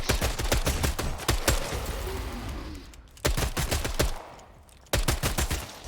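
Gunfire in the vampire battle-royale game Bloodhunt: repeated bursts of rapid shots in three clusters separated by brief lulls, loud and close, with no talking.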